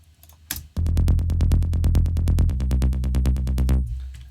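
Bass-heavy electronic trance track with a sub-bass frequency enhancer applied, a loud, steady pulse of deep bass notes driving beneath repeated synth stabs for several seconds before stopping.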